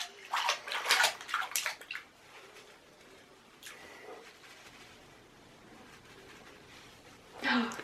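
A small child splashes water in a bubble bath at home. Lively splashing bursts come up close at the start, then quieter sloshing and dripping follow, and another splash comes near the end.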